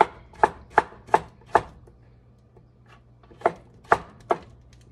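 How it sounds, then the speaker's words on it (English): A knife chops peeled papaya on a cutting board, giving sharp, close knocks in a steady rhythm: four quick chops, a short pause, then three more. "chop it up"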